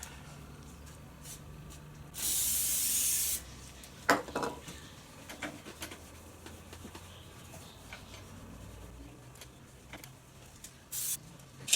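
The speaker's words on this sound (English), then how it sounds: "Give this a spray." A short burst of hissing aerosol spray lasts about a second, followed by quiet tapping, scraping and handling noises nearby.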